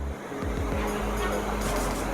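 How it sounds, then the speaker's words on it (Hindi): River water rushes steadily near the Jaldhaka hydel project in the monsoon-swollen Dooars of North Bengal, a loud, continuous broadband roar close by with a deep low rumble beneath and no voices. "दोस्तों मैं अभी जलढका हाइडल प्रोजेक्ट के बिल्कुल करीब हूँ, और देखिए नदी किस तरह से फ्लो कर रही है।"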